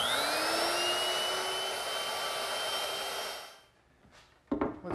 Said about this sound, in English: I'm just going to use a 1/4 inch rounding over bit